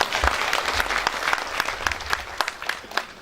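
Audience applause for an elderly performer taking the stage for the first time, a steady patter of many hands clapping through the whole stretch with a few sharper claps standing out, moderately near.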